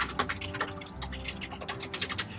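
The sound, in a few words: typing on a computer keyboard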